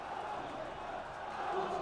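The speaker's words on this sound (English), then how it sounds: "and the crowd really rising to that" A football crowd at a Wycombe Wanderers match roars steadily after a goal, a dense wash of cheering that swells slightly toward the end, with a commentator speaking over it.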